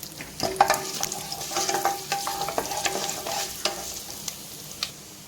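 Fennel seeds frying in hot groundnut oil with mustard seeds and dried chillies, a close crackling sizzle with regular spatula scrapes and taps against the pan, easing off toward the end.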